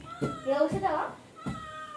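A cat meows twice close by, short plaintive calls, followed by a fainter third mew; no other sounds around it.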